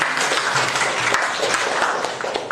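An audience at a school presentation bursts into applause, a dense, continuous wash of many hands clapping together for a couple of seconds and fading slightly at the end.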